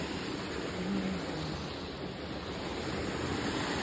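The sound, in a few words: flowing cold mountain water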